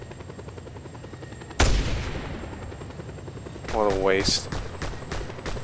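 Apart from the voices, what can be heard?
helicopter in video game Just Cause 2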